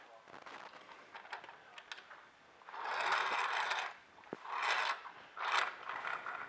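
Hoist-A-Top dual line crank unit winding cables through offset pulleys, heard as a close run of scraping, whirring mechanical bursts with brief pauses between turns.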